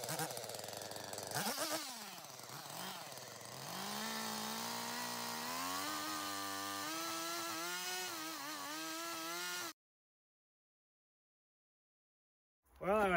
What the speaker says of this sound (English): I'm gonna try to plunge cut roughly 18 inches